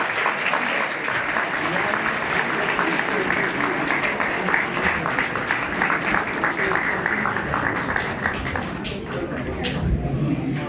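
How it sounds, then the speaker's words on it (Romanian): Sustained applause from a festival crowd at a village celebration in Teregova, steady and dense throughout after a dance performance, with some crowd murmur mixed in. "Haideți să aplaudăm!"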